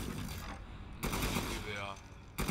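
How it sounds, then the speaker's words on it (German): A mounted gun firing in Resident Evil Village, loud bursts of gunfire across the clip with gaps between them, over a dense game soundtrack with voices mixed in. "Okay, Geschütz abfeuern."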